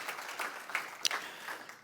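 A church congregation applauds during a sermon, a faint and fairly distant wash of clapping that holds steady for about two seconds, with a few sharper claps standing out.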